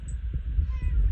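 A hungry female cat meows outdoors in one short, fairly close call over a low rumbling background.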